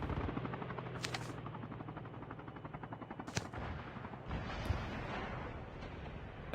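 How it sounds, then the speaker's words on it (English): Helicopter rotor thumping in Call of Duty: Mobile, a rapid steady chopping pulse heard alongside bursts of gunfire and explosions in a competitive match. "Looks like a helicopter chasing the vehicle."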